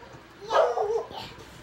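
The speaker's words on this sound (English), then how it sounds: "Dogs are barking right now." Dogs bark and yip near a house in one loud burst that trails off into softer whimpering yelps, heard on their own without talk.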